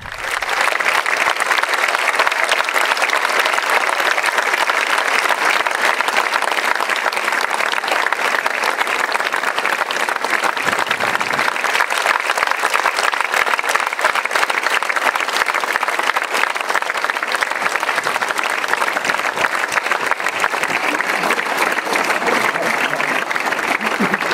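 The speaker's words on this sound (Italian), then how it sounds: "All'uscita della chiesa, la bara è stata accolta da un lungo applauso" Long, unbroken applause from a crowd outside a church as a child's coffin is carried out at a funeral, dense clapping holding steady throughout with a brief dip partway, and voices faintly mixed in.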